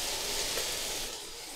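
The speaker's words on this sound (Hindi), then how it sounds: "सब्ज़ी को पकाते हुए 2 मिनट हो गए।" Vegetables for Chinese fried rice sizzle in a pan, giving a steady, fairly soft hiss of frying that holds throughout without any talking.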